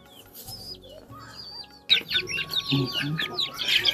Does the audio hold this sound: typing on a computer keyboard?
no